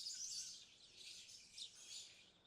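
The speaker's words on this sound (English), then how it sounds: "hear the birds in the morning, hear the birds now" Birds chirp and tweet outdoors in the morning, a faint, continuous wash of high, thin calls with no voices over it.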